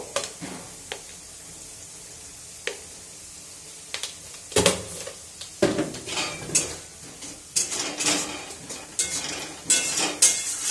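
Spice masala with salt and turmeric is stirred in a pan, giving a soft background sizzle under scattered then increasingly frequent metallic scrapes and clanks of a spoon against the pan, close by.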